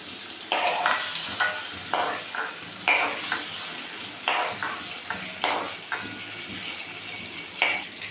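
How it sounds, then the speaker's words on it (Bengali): Prawns sizzle in hot oil in a wok while a utensil scrapes and stirs them in repeated sharp strokes about once a second, close and fairly loud over the continuous frying hiss. "এখন এই তেলের মধ্যেই আমি চিংড়ি মাছটাও ভেজে নেব।"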